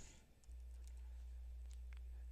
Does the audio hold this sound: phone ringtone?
no